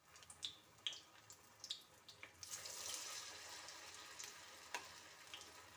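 Flour-coated mushrooms going into hot oil in a pan for mushroom garlic kebabs, a few soft drops and clicks, then a sudden wash of hissing sizzle that fades into a lighter, steady crackle, close but quiet.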